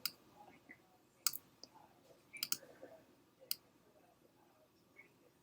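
Computer mouse clicks sound sharp and close in a quiet room, a handful of isolated clicks spaced irregularly with faint softer ticks between, no talk over them.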